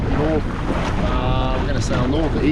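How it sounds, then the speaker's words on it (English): Strong wind roars into the microphone while sailing a Hobie Adventure Island kayak on open water, a loud continuous rumble with someone talking over it. "Wind's still blowing from the east, and that's the direction of the island."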